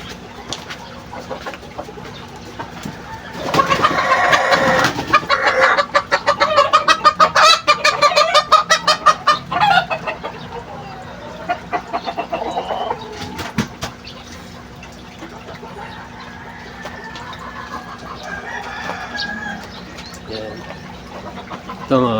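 A chicken squawks and clucks in loud, rapid bursts of alarm as it is grabbed, the agitated cries then fading to softer clucks amid rustling.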